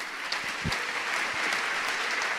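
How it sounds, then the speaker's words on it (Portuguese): An audience at an education congress applauds a professor as he finishes his talk, a steady wash of clapping from a crowd lasting throughout without a break. "O professor Iraildo finaliza sua fala e é aplaudido pelo público"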